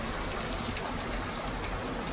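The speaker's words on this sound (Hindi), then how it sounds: "पीछे आप बैकग्राउंड में देख रहे हो खूब तेज बारिश हो रही है" Heavy rain falls steadily in a dense, loud, unbroken hiss, with no voices.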